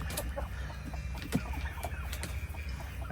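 Chickens and two roosters on a farm keep up a steady stream of overlapping clucks, close and moderately loud, with sharper calls breaking through now and then and no talking.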